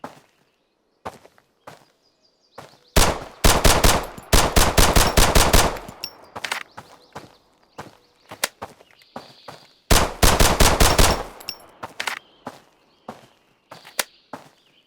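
Full-auto gunfire in the game Road to Vostok: two long, loud bursts of rapid shots, each lasting a few seconds, with scattered single shots and short clusters between them.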